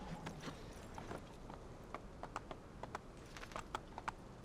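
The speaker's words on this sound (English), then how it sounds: "We'll get back on the horse" Steady clip-clop of horse hooves in a video game trots along at an even rhythm, with soft ambient background and no speech.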